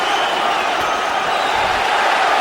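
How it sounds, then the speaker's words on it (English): A boxing crowd at Allstate Arena in Rosemont, Illinois, roars in a loud, steady wash of cheering and noise, with a commentator's voice mixed in. "The crowd comes to life."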